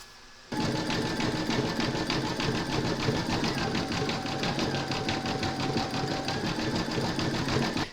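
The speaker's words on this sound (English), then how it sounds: "Load your matching bobbin and thread for the satin stitch border into your machine, and then you're going to stitch round number 5." Embroidery machine stitching a satin stitch border around a puzzle piece coaster, a steady fast mechanical chattering rhythm up close that starts abruptly and runs without pause to the end.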